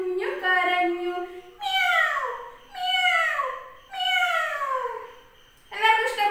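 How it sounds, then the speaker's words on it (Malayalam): A kitten meows in a Malayalam nursery rhyme: five drawn-out, falling meows in a steady sequence, each close and clear and separated by short pauses. "കുഞ്ഞുനാവ് പൊള്ളിയപ്പോൾ പൂച്ച കുഞ്ഞു കരഞ്ഞു"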